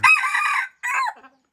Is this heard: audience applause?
no